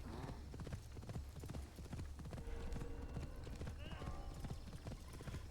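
Horse hooves clip-clop steadily in the video game Assassin's Creed Shadows, a close, rhythmic patter of footfalls with a brief whinny near the end, while a person talks over the gameplay.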